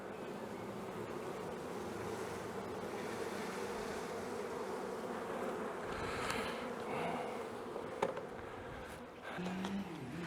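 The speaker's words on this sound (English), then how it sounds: "there's a lot of waving, fanning the bees are doing to attract up there the rest of the swarm into the hive" A honeybee swarm fans at the entrance of a hive while gathering on a fence, making a steady, dense hum that holds throughout, with a few brief knocks and rustles near the end.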